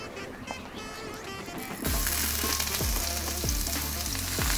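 Onions hit avocado oil in a pan and start to sauté for a Philly cheesesteak. A quiet stretch gives way to a sudden loud, dense sizzle that keeps going, with a few scraping stirs.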